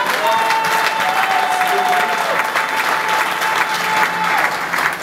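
Loud, sustained applause from a church event audience, a dense steady clapping crowd filling the hall with some voices mixed in.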